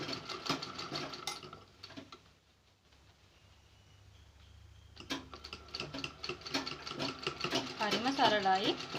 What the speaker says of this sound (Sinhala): මේ විදිහට තියලා ඉවර වෙලා අඟල් භාගයක වගේ මැහුම් වාසියක් එන විදිහට මසාගෙන යන්න.